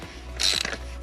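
A ratcheting oil filter cap wrench clicks and creaks as it loosens the oil filter housing on a Volvo 2.0L VEA engine, a brief close burst of mechanical clicks.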